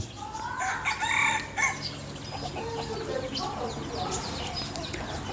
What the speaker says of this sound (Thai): นี่ครับไก่หน้าลุงพร